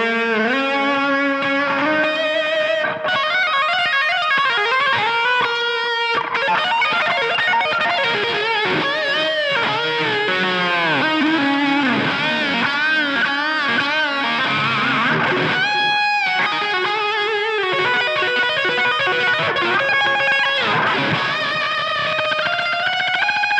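An electric guitar run through a Line 6 Helix with added amp gain and delay plays a rhythm part. The distorted, sustained riffing stays loud and continuous throughout, with no speech.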